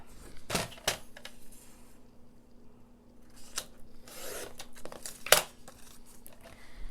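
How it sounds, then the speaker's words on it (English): Paper cut in half for a folio flip book journal, a few short crisp snips and rustling handling of the sheet, close and quiet with pauses between cuts and no talking. "So I wanna go ahead and cut this in half."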